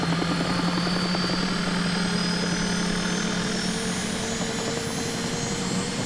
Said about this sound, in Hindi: ओह, इंजन पहले से ही चालू है।